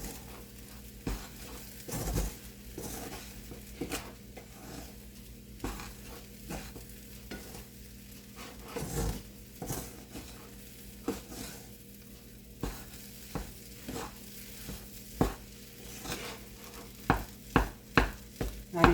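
Kachori filling being stirred and mixed with a little added oil and black salt, giving repeated soft scraping and stirring strokes that grow sharper and louder toward the end, with no talk.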